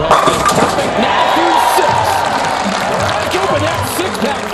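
A bowling watch party crowd in Latrobe, Pennsylvania cheering for bowler BJ Moore, a dense continuous roar of voices and applause at steady loudness throughout, with a commentator's voice audible over the top.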